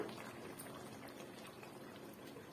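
Low, steady bubbling simmer with soft pops, quiet and continuous: thick masala egg gravy boiling in a pan under a lid.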